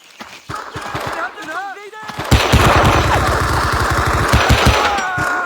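Rifle and machine-gun fire in the Vietnam war game Men of Valor: rapid, loud bursts of shots rattling almost continuously over battlefield noise, with soldiers shouting over it.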